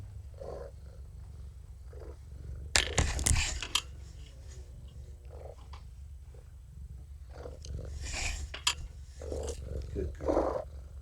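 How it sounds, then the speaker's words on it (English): Kougra, a cat, purrs in a low, steady, continuous rumble. Occasional brief louder rustles and soft human voices come and go over it. "Purring up a storm."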